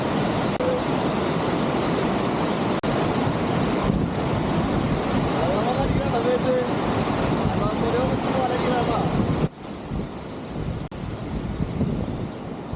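Water from a forest waterfall at Attappadi plunges into a pool, making a loud, continuous rushing roar close by. Wind buffets the microphone, and a voice talks over the noise.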